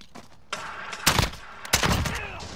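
Single-fire gunshots in Call of Duty during a tournament match, a few sharp loud bursts spaced apart, each with a short crackling tail over a steady background hum.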